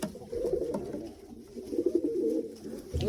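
Pigeons coo steadily in a loft shed, a continuous layered burble of soft throaty calls from several birds close by, with no talking.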